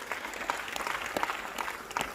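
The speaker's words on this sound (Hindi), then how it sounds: "एक जोरदार ताली आप सब खुद के लिए।" Applause from an audience at a Safe Shop diamond leader speech event, a dense patter of hand claps spread evenly over the whole stretch at moderate distance, with no voices heard above it.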